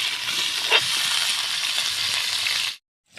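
Jackfruit pieces fry in hot oil with a steady, close sizzle that cuts off abruptly near the end.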